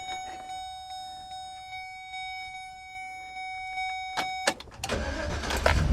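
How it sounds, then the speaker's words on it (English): A converted camper van's engine cranks after a steady electrical tone and faint ticking, then catches and runs with a rising, close rumble. "You can see when we start the engine"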